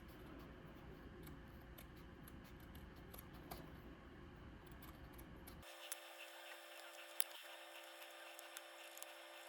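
Faint, quiet snips of scissors trimming the fabric edges of a cross stitch bookmark, a few soft clicks scattered over low background hiss, with no talking.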